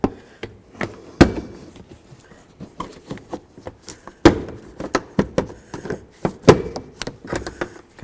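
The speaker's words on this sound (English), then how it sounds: "this just has those same little tabs like that other one. So that's the noise that you're hearing. It keeps popping." Plastic trim panel tabs on a 2007-2014 Ford Edge popping loose under a trim tool, a run of sharp irregular cracks and snaps, a few louder pops standing out, close and alone.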